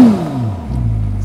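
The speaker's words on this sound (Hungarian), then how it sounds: "akkor rögtön beindul a V6-os motor," A Ferrari 296 GTS V6 engine revs up loudly in one short burst, then settles into a steady low rumble.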